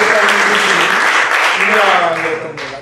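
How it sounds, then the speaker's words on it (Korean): Audience applause at a Christian book concert, a dense, loud wash of clapping throughout with voices faintly mixed in, tapering off at the end. "박수 한번 좀 쳐주시죠."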